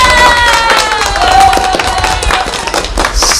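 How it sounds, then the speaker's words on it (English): An audience at a holistic health talk applauds steadily, dense clapping with some cheering, loud and sustained throughout. "so applause"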